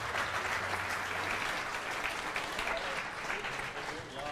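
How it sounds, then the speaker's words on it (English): Sustained applause from an audience at the launch of the Sauber C32 Formula 1 car for the 2013 season, a steady dense patter of clapping filling the room for several seconds. "applause for the new Sauber"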